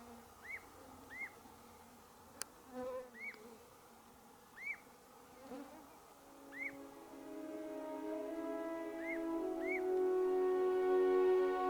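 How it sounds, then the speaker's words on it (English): Short rising bird chirps repeat at irregular intervals outdoors in northern Finland, fairly faint, while a steady droning hum builds underneath and grows louder toward the end. "there are some birds calling in the background"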